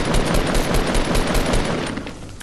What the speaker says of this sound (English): Wondering where is he shooting me from?